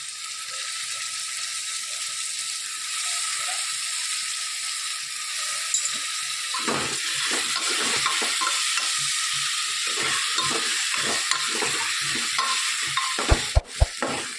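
Stuffed brinjal, potatoes and peas are stirred inside a pressure cooker over a low sizzle; midway, rhythmic scraping strokes against the metal start up and continue, finishing with a couple of sharp clanks.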